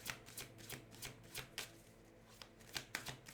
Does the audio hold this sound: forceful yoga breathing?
no